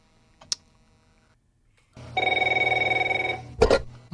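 A studio telephone rings in a recorded call, a single trilling electronic bell burst of about a second and a half, preceded by a faint click and followed by a sharp clatter as the handset is picked up.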